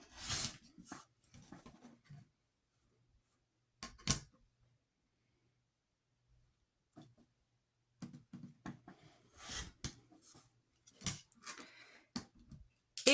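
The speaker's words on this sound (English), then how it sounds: "I'm just going to trim away all the excess fabric" A rotary cutter slices excess quilt fabric along a straight ruler, giving several short, crisp scraping strokes in two clusters separated by a quiet stretch, close and fairly soft, with no talking.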